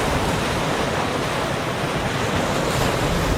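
Ocean waves surge against the beach of Rani Island in Supiori as a loud, continuous wash of surf, with wind buffeting the microphone throughout.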